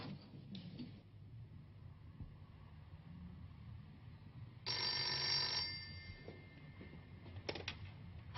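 A telephone rings once in a short electronic burst against a quiet room background, with faint noises before and after and no talk during the ring.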